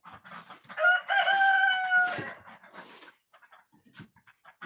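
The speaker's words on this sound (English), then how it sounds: "quit crowing" A farm rooster crows loudly and close in one long cock-a-doodle-doo, with a dog and some clucking chickens around it on a freezing-rain day, followed by scattered quieter farmyard noises.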